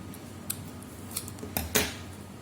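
A few short, crisp scissor snips cut paper for a handmade Father's Day gift card, close by over a quiet background.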